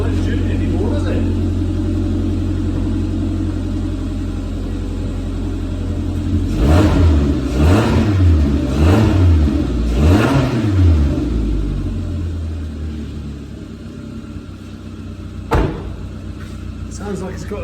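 Suzuki Jimny JB74 fitted with a performance exhaust, its engine idling loudly before a run of several throttle blips that rise and fall in pitch, then settling back to a steady idle with a single sharp knock near the end.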